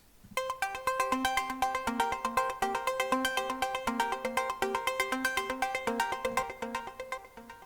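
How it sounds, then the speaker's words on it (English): A bright arpeggiated synth sequence with no external effects plays in rapid, evenly spaced plucked notes, cycling through a repeating pattern with no other sounds. "And we're going to work with an arpeggiated sequence,"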